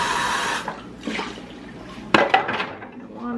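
Water splashes and runs briefly in a home kitchen during breakfast cooking with bacon, followed by clinks of dishes and utensils, close by and fairly quiet.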